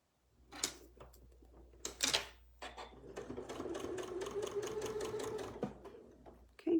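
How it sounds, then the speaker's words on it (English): A sewing machine fitted with a Westalee braider tool stitching at a steady whirring hum for a few seconds, preceded by a couple of sharp clicks and handling thumps, close and clear with no talking. "It's not affecting my sewing."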